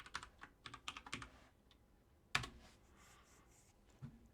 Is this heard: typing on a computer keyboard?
yes